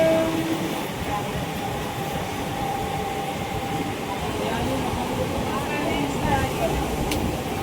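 A train around Kalyan station in Mumbai: a steady, heavy rolling rumble with faint rhythmic rattles, continuous throughout, with muffled voices in the background.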